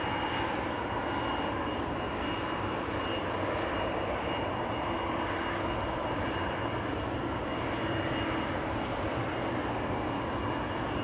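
A large airliner at Amsterdam Schiphol Airport, such as a Boeing 777-200, sends out a continuous, fairly loud jet engine roar that holds steady throughout.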